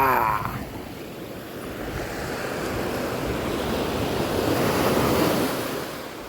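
Sea waves wash ashore in a continuous rushing roar that swells toward the end, with wind buffeting the microphone and no voices.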